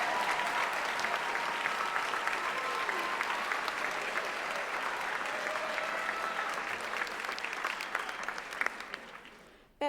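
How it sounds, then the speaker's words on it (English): A large commencement crowd at Folsom Lake College applauds a professor seated on stage, with sustained dense clapping and scattered cheers that taper off near the end. "Can I get a round of applause for him?"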